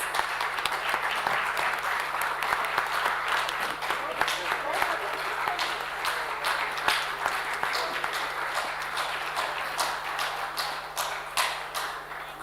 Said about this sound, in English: Can we have huge round of applause?